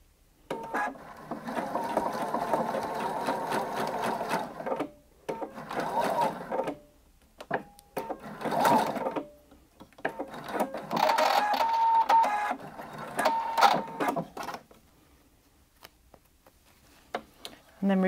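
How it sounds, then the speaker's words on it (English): A sewing machine tacks elastic to skirt fabric along a 3/8 seam, whirring up close in uneven bursts of stitching broken by pauses and light mechanical clicks. "I'm going to tack the ends and just tack through the elastic to secure that in place with the 3/8 seam again"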